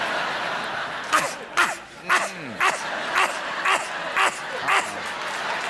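A man on a late-night talk show imitates a dog barking, giving about eight loud, evenly spaced yapping barks with brief whimpering yelps between them, with no other talk over them.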